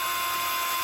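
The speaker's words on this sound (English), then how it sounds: "So just drill it." A steady, high-pitched whine of a power drill drilling a pilot hole in an ATV battery compartment, running continuously at close range, with no voices.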